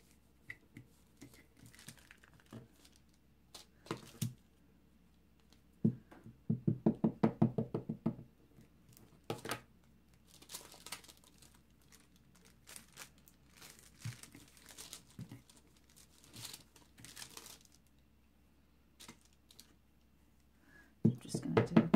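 A rubber stamp is inked and pressed onto washi tape, giving scattered soft knocks and taps along with papery crinkling and handling noises in a quiet room.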